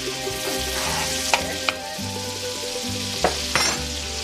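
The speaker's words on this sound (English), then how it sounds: "I got the butter and the garlic in the pot here sauteing." Butter and garlic sauté in a pot on the stove, with a steady close sizzle throughout and a few sharp clinks of a utensil against the pot.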